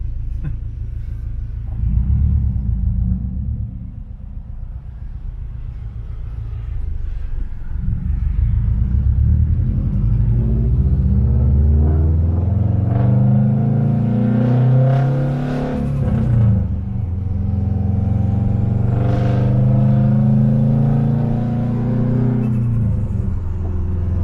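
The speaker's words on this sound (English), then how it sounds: "I have the ETS Extreme, which is basically straight pipe, because I also have a catless downpipe." A 2011 Subaru Impreza WRX with an ETS Extreme straight-pipe exhaust and catless downpipe revs loudly and up close, its deep rumble climbing and falling in repeated pulls over a steady idle, with no talk.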